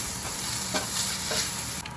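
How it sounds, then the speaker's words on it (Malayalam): Onions sautéing with salt in a pan for a Malayalam-style crab curry give off a steady close sizzle, with a few scrapes of stirring, before the sound drops away near the end. "ഇനി കുറച്ച് നേരത്തേക്കൊന്ന് അത്യാവശ്യം നല്ലോണം സോട്ടേ ചെയ്യണം."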